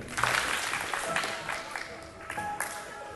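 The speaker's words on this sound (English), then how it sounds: "Clap once if you can hear me" An audience at a youth speaker's talk claps together in a dense burst that stays fairly steady for a few seconds, with scattered voices mixed into the crowd noise.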